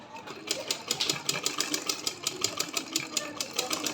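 Sewing machine stitching a folded hem on panties at a tailoring class, with a rapid, even needle clatter running steadily at close range and a faint voice in the background.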